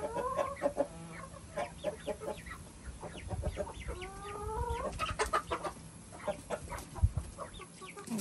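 Chickens and roosters cluck in a steady run of short, choppy calls at close range, with a few longer squawks scattered through; no one talks over them.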